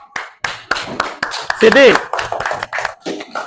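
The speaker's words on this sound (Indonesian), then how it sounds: "tepuk tangan untuk kelompok" Schoolchildren in a classroom clap for a group of classmates, a short burst of quick hand claps mixed with a teacher talking over them.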